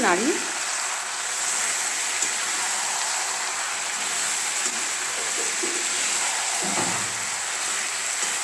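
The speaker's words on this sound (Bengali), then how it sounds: "নাড়া হচ্ছে। হ্যাঁ, এটা ফ্রাই করে মশলাটা।" A spice mix of chili powder and ground pepper for chicken biryani fries in oil with a soft continuous sizzle, and a spoon stirs it now and then; moderately quiet and steady, with faint voices in the background.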